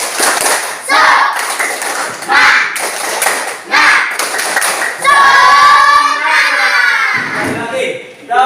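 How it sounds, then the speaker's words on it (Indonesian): A class of children performs the 'tepuk semangat' clapping chant, with bursts of loud rhythmic claps and thumps between shouted chant lines. A sung, tonal passage comes near the end. "sekarang kita akan lakukan ya gerakan tepuk semangat ya agar kita nanti belajarnya dalam keadaan semangat"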